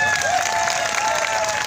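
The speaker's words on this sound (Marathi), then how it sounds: "ज्याने ज्याने टाळ्या वाजवल्या" Audience applause from a crowd at a live event with songs and speeches, steady dense clapping throughout at a moderate distance, with no voices over it.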